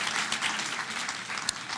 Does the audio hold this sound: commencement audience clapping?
yes